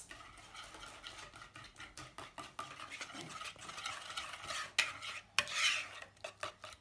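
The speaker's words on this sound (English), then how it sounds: "One final whisk to make sure that your mixture is really smooth" Pancake batter being whisked in a bowl, a steady run of quick scraping, clinking strokes close by, growing louder and busier toward the end with no talking.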